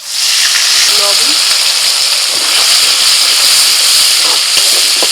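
Ginger, garlic and green chili paste fries in hot oil with whole cardamom, cinnamon and cloves for egg biryani, giving a loud, steady hiss and sizzle that runs unbroken from start to finish.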